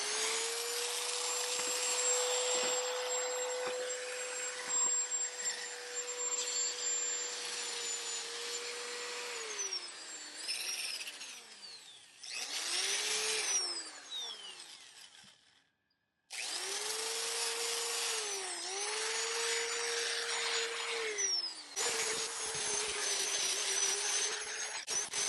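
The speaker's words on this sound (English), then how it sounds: "Now I'm going to be using a right angle sander." A right angle sander whirs steadily at close range, sanding a 2006 Honda Odyssey headlight, its pitch dipping and shifting as it presses and grinds against the surface, stopping briefly before starting again.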